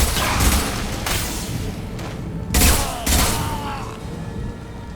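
Gunfire in the Mass Effect 2 video game, with a few heavy, booming shots punctuating rumbling background noise, two of them close together near the middle.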